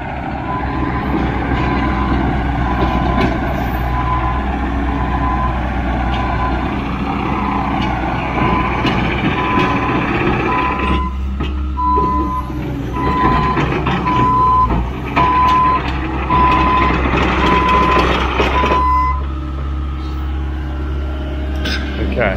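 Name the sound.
dump truck arriving with reversing beeps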